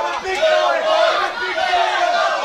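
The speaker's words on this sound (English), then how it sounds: "this crowd chanting little boy at the Playboy" A large, rowdy crowd chants in unison at a Battle at the Barns 2020 event, the voices loud and close and filling the whole stretch.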